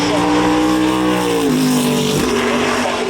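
A McLaren racing car engine screams at the Goodwood Festival of Speed, loud and close with a high revving wail that shifts pitch, while a commentator talks over it.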